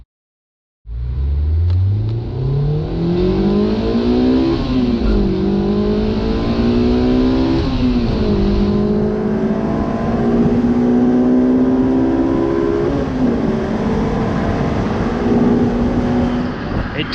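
A Honda S2000 with a Hondata reflash accelerates hard on a test run, its engine note climbing steadily through the gears with brief dips at each shift, loud and close from inside the car.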